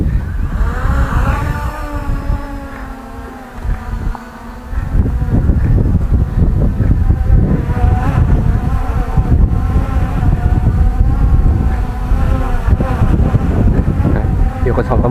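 MJX Bugs 5W quadcopter drone flying outdoors in wind, a continuous buzzing whine of the propellers with shifting pitch, mixed with heavy wind rumble across the microphone and a brief dip midway.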